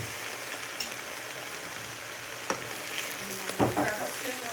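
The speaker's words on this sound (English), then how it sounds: "beginning to sizzle" Sausage grease sizzling in a pan while biscuits and gravy are cooked, a steady soft hiss with a few sharper crackles and clinks, with no talk over it.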